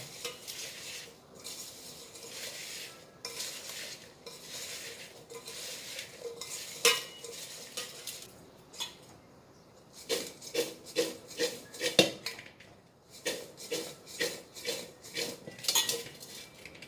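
Mango pickle pieces are mixed with salt by hand in a bowl, a run of close, rhythmic rubbing and scraping strokes that turns into quick repeated pulses in the second half, with no speech.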